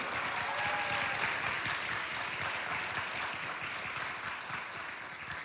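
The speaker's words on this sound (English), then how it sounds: "Feel free to cheer." Audience at a fundraising event for addiction and trauma recovery applauding a $700,000 check, dense steady clapping filling the room, moderately loud and slowly fading toward the end.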